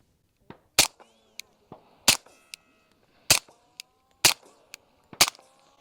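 Five sharp, cracking shots from a suppressed .45 handgun, spaced about a second apart, fairly loud, with small clicks and faint metallic rattles between them.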